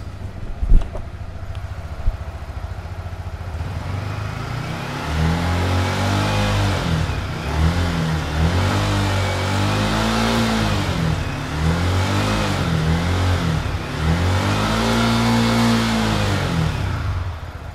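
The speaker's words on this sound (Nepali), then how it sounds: "अब हामी यामाहाको MT-15 V2 बाइकको एक्जस्ट साउन्ड सुन्न जाँदैछौँ।" A Yamaha MT-15 V2 motorcycle engine idles with a low throaty exhaust, then revs up repeatedly in rising and falling bursts, close and loud.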